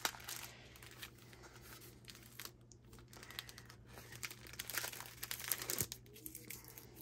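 A package of craft supplies is unwrapped with continuous crinkling and rustling of wrapping, quiet but close, with brisk tearing bursts and scattered crackles.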